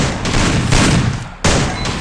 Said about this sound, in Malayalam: അവനെ പടക്കം വെച്ച് അടിച്ചിട്ടുണ്ട്